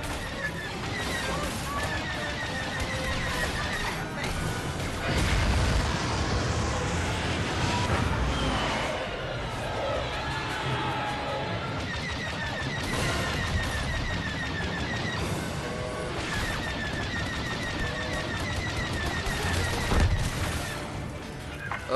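Star Wars Battlefront 2 battle noise during a bombers' attack run, with explosions and rapid gunfire layered in a dense, continuous, loud din and heavy booms scattered throughout.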